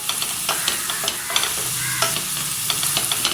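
Onions and curry leaves sauté in a pan for a mushroom pepper fry: a steady, close sizzle with occasional stirring scrapes and spoon clinks, and no voices.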